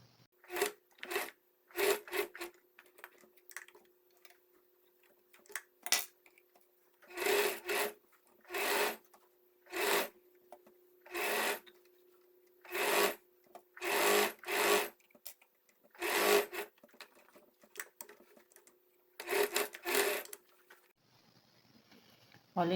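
A sewing machine stitches the top edge of a cotton dish towel with a heart border, running in repeated bursts of rapid whirring with short pauses between passes, close and steady.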